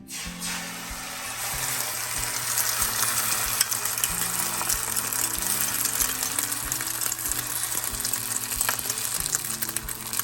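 Beaten egg for an omelette fries in oil in a hot pan, crackling with a loud, continuous sizzle close by, with a low background hum underneath.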